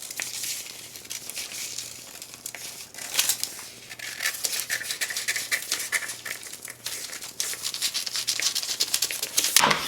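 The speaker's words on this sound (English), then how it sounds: "So let's keep cutting." Scissors cutting a paper dress pattern, a close continuous crinkling and snipping of paper with rustling handling noise, rising in intensity toward the end, no voices.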